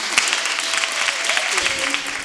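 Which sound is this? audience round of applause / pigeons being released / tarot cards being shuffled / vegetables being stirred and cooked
audience round of applause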